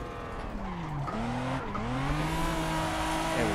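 In the Assetto Corsa racing game on Xbox One, a turbocharged Supra drifts, its tires squealing in wavering, sliding tones over a steady engine drone.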